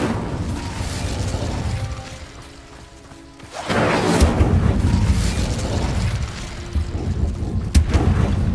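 Repeated Incendio fire spell casts during combat in the Hogwarts Legacy video game: loud roaring blasts and booming bursts over rumbling battle noise, dipping quieter for a moment before surging back with dense crackling fire.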